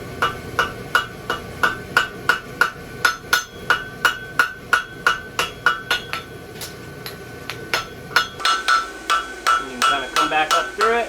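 Steel hammer blows ring out in a steady run of sharp, evenly spaced strikes as a 3/8 x 1 bar is forged into a French hind horseshoe with masselot clips, loud and close, with a brief faster flurry toward the end.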